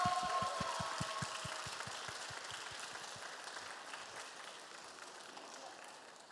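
Applause from a church congregation at a Sunday youth worship service, welcoming newly elected officers. A brisk burst of clapping starts strong and gradually thins and fades over several seconds.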